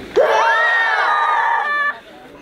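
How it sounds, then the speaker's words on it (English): A group of people yell together on cue, a loud sustained shout that rises sharply, holds steady for nearly two seconds, then cuts off abruptly. "On the count of three, we're, we're going to yell."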